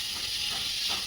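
Vegetables in a pan give a steady soft sizzle and hiss, close and even throughout, with a small clatter at the end as the lid comes off; no talk.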